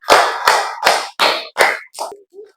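A class of children clap hands together in a counted rhythm, five sharp, loud group claps spaced about half a second apart, with a couple of softer trailing claps at the end.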